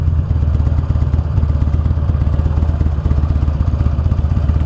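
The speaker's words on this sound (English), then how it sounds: "The engine noise is my favorite thing about this bike so far." A 2009 Buell Lightning Long XB12SS motorcycle engine runs loud and close, with a steady, pulsing V-twin rumble and a clattering, throbbing beat that carries on without a break and with no talking over it.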